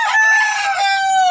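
A rooster crows once up close, a loud, drawn-out call that falls slightly in pitch at the end.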